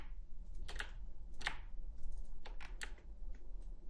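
A few distinct computer keyboard key presses, about six sharp clicks spaced irregularly, close and fairly quiet against a low background hum.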